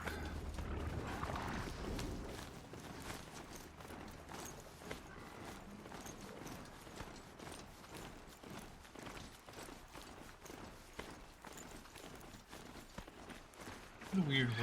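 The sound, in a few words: weird mount horse galloping in Horizon Zero Dawn, video game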